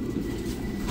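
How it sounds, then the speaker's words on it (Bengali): Vande Bharat train pulling away from the platform, a steady low rumble of wheels and carriage noise close by, continuous and fairly even through the short stretch with no talking. "ট্রেন ছেড়ে দিল"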